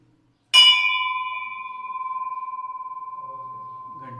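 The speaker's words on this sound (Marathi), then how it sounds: "काशाची जी घंटी म्हणतो ना तशी घंटी ती." An old bronze temple bell in a Shri Ram temple is struck once and rings on with a long, pure, slowly fading tone that pulses gently. A faint voice comes in near the end.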